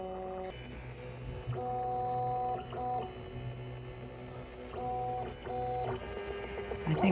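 A cheap Tina 2 / Monoprice Cadet 3D printer runs a print, its stepper motors whining in steady tonal bursts that change pitch as the head moves, close and fairly quiet with brief pauses between moves.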